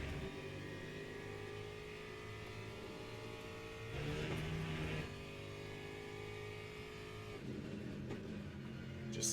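Aston Martin race car in Le Mans Ultimate at Spa, its engine droning steadily throughout with a brief louder surge midway, alone without talk.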